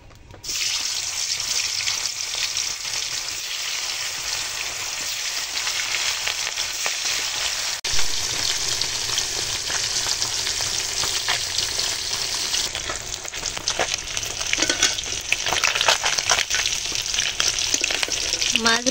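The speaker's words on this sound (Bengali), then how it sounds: "এখন মাছগুলো ভেজে নেব।" Fish frying in hot oil in a wok on a home stove gives a loud, steady, dense sizzle that runs unbroken throughout, with occasional stirring clatter and no voices.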